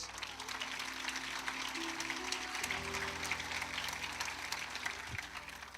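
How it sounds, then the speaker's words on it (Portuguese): A church congregation applauds Jesus, dense even clapping spread across a large room, holding steady throughout with a low sustained organ or keyboard tone beneath it. "Aplauda Jesus."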